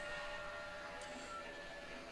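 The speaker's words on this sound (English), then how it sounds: "There we go, another train." Train arriving in the Railroad Tycoon II video game, a faint, steady rumbling game sound effect that runs evenly through the whole short moment with no clear whistle or horn.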